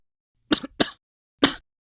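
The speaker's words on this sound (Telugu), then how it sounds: "ఈ మధ్య నాకు దగ్గు విపరీతంగా వచ్చేస్తుందండి" A woman coughs three times in a comedy sketch, with two quick coughs close together and a third after a short pause, close and clear against silence.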